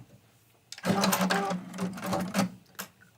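A sewing machine runs in bursts, a steady mechanical whir of stitching that starts, pauses briefly and resumes, close and fairly loud, with no talking.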